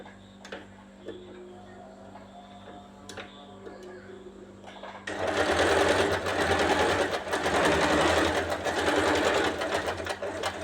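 A sewing machine stitches embroidery on a nightie neckline, starting after a quiet stretch with faint ticking and then running as a fast, loud, continuous whirring buzz.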